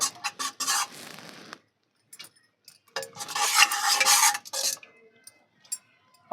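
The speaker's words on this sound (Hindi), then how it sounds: "अच्छी तरह से इसको मिक्स कर देंगे।" A spoon stirs and scrapes around a pot of Punjabi sarson ka saag with tempering in two bursts of brisk mixing, separated by a short pause, with faint clinks.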